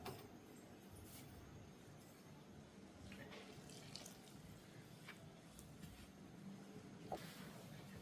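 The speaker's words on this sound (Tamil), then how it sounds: "சுடுதண்ணியை விட்டு குழைப்போம்." Hot water trickles and splashes into salted flour in a bowl while puttu dough is being mixed, a soft continuous pouring with faint clinks and handling noises, fairly quiet and without speech.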